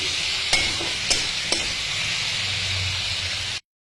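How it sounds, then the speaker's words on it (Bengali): Spices with salt, turmeric, cumin and coriander powder cooking in a pan for a green-banana dhoka dish, a continuous hissing sizzle punctuated by three sharp spatula knocks against the pan, then abruptly cut to silence. "মশলাগুলো খুব সুন্দর করে কষিয়ে নিয়েছি"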